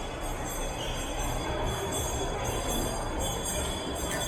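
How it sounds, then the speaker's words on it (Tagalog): A train passes nearby with a continuous rumbling, rattling roar and faint metallic clinks, heard outside Ayala Malls Cloverleaf. "Yun, may tren nga. Maingay eh."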